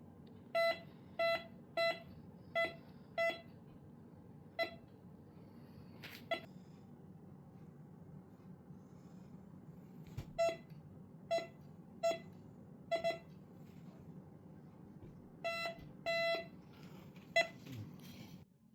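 A cheap Temu metal detector beeps in quick repeated bursts of short electronic tones over a steady low hum, pausing, then resuming in several clusters of rapid beeps.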